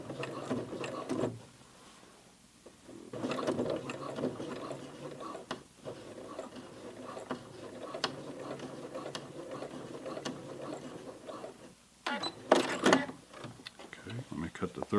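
A home sewing machine hems a pair of jeans, its mechanical stitching rattle running steadily, slowing and labouring as it climbs over the thick side seam, with a louder burst of strain near the end.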